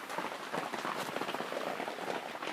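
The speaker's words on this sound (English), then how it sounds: "you can probably hardly hear me over the rain" Steady rain falls outdoors at an off-grid homestead, a dense, even patter of drops hitting surfaces close by, continuous and alone with no voices.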